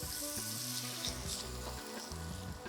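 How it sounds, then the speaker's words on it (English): Lamb meat and onions frying in a pot for a Greek-style meat phyllo pie, giving a steady close sizzle with low tonal sounds running underneath. "And now we have to give a nice color to the meat with the onions."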